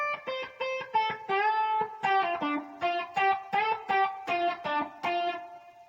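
Electric guitar plays a choppy staccato blues lick with string bends, short picked notes in quick bursts with brief gaps, close and clear with no talking.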